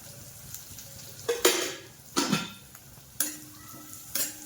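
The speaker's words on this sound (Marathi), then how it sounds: "परतून घ्यायचं हे चांगलं." Samosa filling being sautéed in oil in a pan, with soft sizzling under several sharp scrapes and clanks of a spatula against the pan, spaced irregularly and heard up close.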